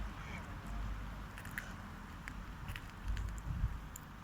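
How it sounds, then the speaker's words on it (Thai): A flock of ducks in Finland quacking in scattered, overlapping calls against a steady outdoor background, moderately close, with no talking. "เป็ดน้ำเยอะมากเลย"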